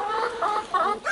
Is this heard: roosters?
yes